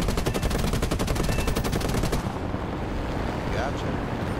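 Rapid machine-gun fire from an enemy gunner in the War Thunder combat game, a loud, dense burst of evenly spaced shots lasting about two seconds before cutting off into rumbling battle ambience.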